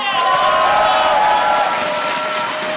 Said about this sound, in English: Crowd, do you think Chet's doing a great job too?